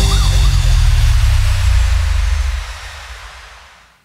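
A St John Ambulance advert from Papua New Guinea opens with a brief warbling ambulance siren over a loud, deep vehicle rumble. The rumble fades out over a few seconds, and no one talks.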